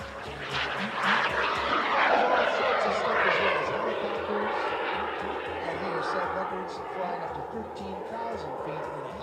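A twin-jet-powered sailplane drones overhead at an airshow at Edwards AFB with a steady engine roar that swells and slowly fades, rumbling throughout without voices.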